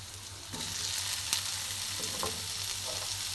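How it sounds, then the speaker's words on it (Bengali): Chopped raw mango frying with onions in a pan over a low flame gives a steady, close, continuous sizzle, punctuated by light scraping and stirring sounds, with no voices. "আমটা এবার আমি পেঁয়াজের সঙ্গে ভাজবো"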